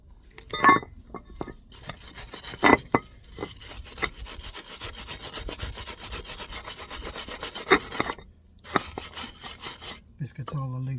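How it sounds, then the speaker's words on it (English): A wire brush scrubs loose rust off the front brake parts of a car in steady, rough, rasping strokes, close and continuous with a few sharper scrapes and short pauses. "the easiest way to do that is to just simply get a wire brush"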